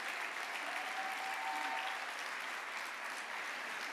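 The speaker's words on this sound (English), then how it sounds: "Let's give them a big round of applause." An audience at the 2022 San Antonio Business Hall of Fame evening event applauds, a steady, full round of clapping from a large crowd that continues evenly from start to finish.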